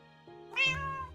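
A single cat meows once, close and clear, a short rising-then-falling call over a quiet background hum in a visual novel game scene.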